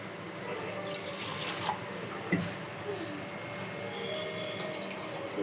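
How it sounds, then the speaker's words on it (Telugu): Dal cooking water is poured into a pot, a faint, steady trickling and splashing that continues throughout the clip. "మగ్గినాక పప్పు నీళ్ళు పోసుకోవాలి."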